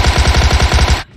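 A loud, rapid burst of automatic gunfire in PUBG rattles out about a dozen evenly spaced shots up close, then cuts off abruptly.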